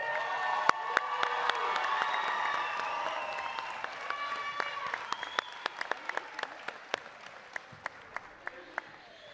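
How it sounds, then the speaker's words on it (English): Graduation ceremony audience for a summer 2023 class breaks into sustained applause with cheering and whoops, the clapping thinning into scattered sharp claps toward the end. "A huge round of applause for our summer class of"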